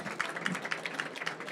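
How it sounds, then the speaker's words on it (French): Audience applause after a talk on the defense industry in France's Centre-Val de Loire region, steady scattered clapping, fairly faint and continuous throughout. "on peut les applaudir bien fort."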